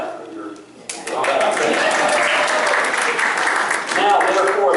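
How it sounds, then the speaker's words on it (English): A crowd at a Lake County, Florida Republican Party executive committee meeting breaks into sustained applause that starts abruptly and holds steady at full strength, close and loud. "that's where you clap"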